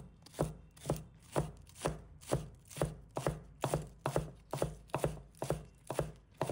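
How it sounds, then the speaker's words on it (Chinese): A knife chops scallions on a cutting board in a steady, evenly spaced series of about a dozen crisp thuds, close and clear with no voices. "把它切成葱花"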